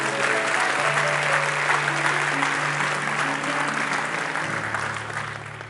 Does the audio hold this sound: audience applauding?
yes